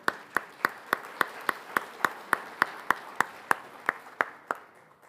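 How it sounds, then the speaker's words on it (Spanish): An audience at a Latin American budgeting panel applauds, though it comes across as a single clear clap pattern: about fifteen evenly spaced, crisp claps at a steady rhythm, moderately loud and fading slightly at the end, with no talk. "Y este aplauso también que le damos."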